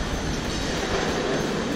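A metro train in Naples, Italy rumbles past in a steady, loud, broadband roar with faint rail clatter, no voices over it.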